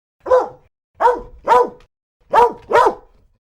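A dog barks five times as a sports-show sound effect, loud and close, in an uneven sequence of single and paired barks with short silences between them and no talk.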